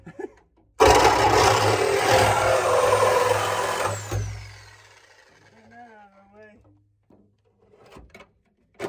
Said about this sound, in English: That's what the sawzall's for.